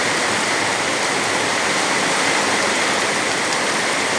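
Floodwater rushes during a typhoon in a loud, dense, unbroken roar of churning water, close and steady throughout.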